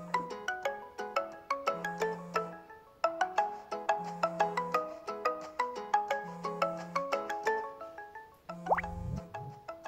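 An incoming-call phone ringtone plays a bright, plucky melodic pattern of dripping, bell-like notes. It repeats in phrases over about ten seconds with short gaps and sounds clear and alone, with no voices.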